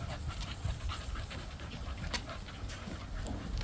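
An American Bully dog pants close by in a steady, rapid rhythm of breathy huffs that runs without a break through the whole stretch.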